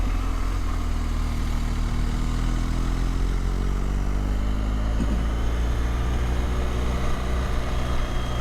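A BMW R1250GSA motorcycle rides along a New England mountain road in fall, its engine droning steadily and loudly with heavy wind rush throughout and a brief pitch shift midway.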